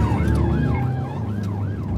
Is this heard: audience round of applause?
no